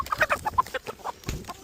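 A hen clucks up close during egg collecting, giving a quick run of short, choppy clucks and murmurs over less than two seconds.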